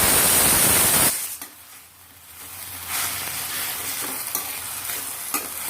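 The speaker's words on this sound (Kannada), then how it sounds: "ಚೆನ್ನಾಗಿ ಫ್ರೈ ಮಾಡ್ಕೊಳ್ಳೋಣ." Fenugreek leaves (methi) fry in a pan with a steady hiss and sizzle; a loud burst of sizzling opens, then softer frying continues with occasional stirring scrapes, close up and without voices.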